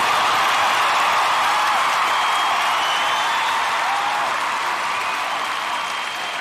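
Long, steady applause from a large crowd, a continuous roar of clapping that holds level for several seconds and fades a little at the close.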